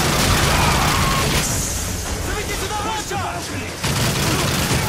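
Bursts of gunfire and booms from Call of Duty: MW3 on the Wii, loud and dense for a moment, then easing into scattered shots under a busy mix before building again.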